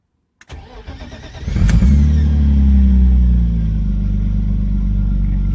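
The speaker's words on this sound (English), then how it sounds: "Let's do a cold start here." A BMW E36 cold start on a freezing day: a brief starter crank, then the engine catches with a loud rising rev and settles into a steady, close rumbling idle.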